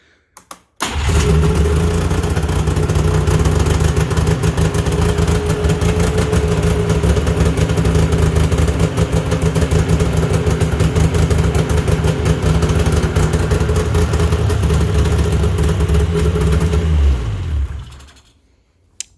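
A Yamaha Mountain Max 700 snowmobile fires up on electric start inside a shop at about 20 degrees, then runs at a loud, steady idle close by before cutting off near the end.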